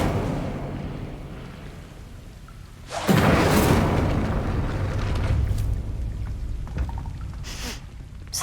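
A sudden whooshing burst of conjured fire from the Incendio spell in Hogwarts Legacy flares loudly after a quiet stretch, then roars and crackles steadily before fading, with no talking over it.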